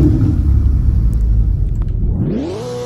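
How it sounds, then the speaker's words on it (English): A Ferrari F8 cold-starting, with a loud, steady low engine rumble that surges into a rising rev near the end, close by and with no talking. "let's get a cold start on the Ferrari F8 right here"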